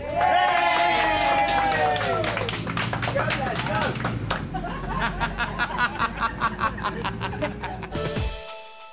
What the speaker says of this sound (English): Can everybody give Les a cheer because he's won the Driver of the Year award?